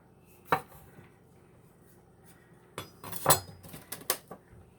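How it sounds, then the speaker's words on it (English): Knife slicing through food held between two plastic plates in a home kitchen, with a few sharp clicks and clatters of blade on plastic, isolated hits then a quicker cluster, close and fairly quiet with no talking. "if you put them in between two, you know, pieces of plastic or plastic plates or whatever, you could slice them in half"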